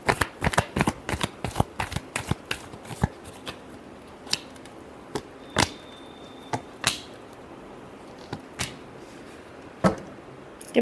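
Tarot cards being shuffled by hand, a fast run of crisp riffling slaps at first, then slowing to scattered single taps and flicks, close and clear with no talk.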